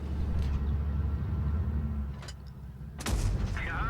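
Heavy tank cannon blasts in a tank video game with an E75, a deep booming shot with a low rumble, then a second sharp report near the end, loud and close with no talk.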